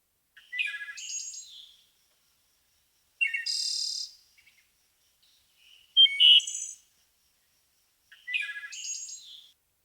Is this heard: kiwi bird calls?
yes